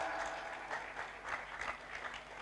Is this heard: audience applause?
yes